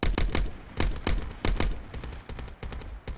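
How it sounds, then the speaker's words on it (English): Sharp gunshots in a building-combat shooter game, fired in quick bursts of several rounds with brief gaps, loud and close, with no voices over them. "I'm just laying down shots so he stays down."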